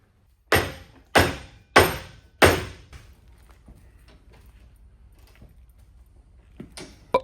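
Upper control arm bushing being pressed into a 2024 Duramax: four loud, sharp metallic clunks about half a second apart, then a quiet stretch with faint clicks and one final knock, no talking.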